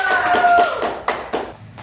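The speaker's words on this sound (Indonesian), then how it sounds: "Tepuk tangan dulu untuk Zahra." A class of schoolchildren applauding a classmate, a burst of quick, fairly close hand claps that thins out into a few separate claps, with a faint voice under the start.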